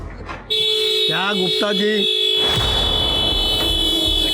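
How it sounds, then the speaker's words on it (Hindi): A car horn blares in one continuous loud, steady tone from close by, while a man calls out over the start of it. "देखो जरा क्यों हॉर्न बजा रहा है।"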